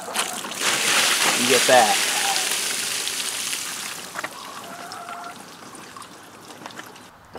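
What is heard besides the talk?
water spilling out of tipped Titan Deep Freeze cooler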